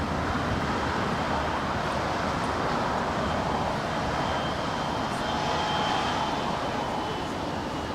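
Passenger jet arriving on runway 24 right at LAX, a steady broadband roar of engines and rushing air sustained through the whole stretch at moderate distance, with no voices over it.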